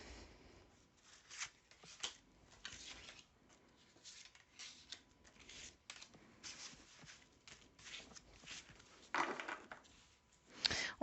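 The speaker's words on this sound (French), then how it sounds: "Allez, on va tirer 5 cartes." Cards shuffled and drawn one by one for a card reading, with faint soft riffles and light slides coming in irregular bursts at close range in a quiet room.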